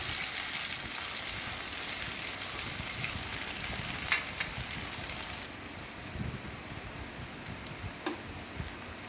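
Slow-cooking vegetables fry in a pan for vegetarian khichuri, a faint, even sizzle with soft crackles and a few light stirring taps.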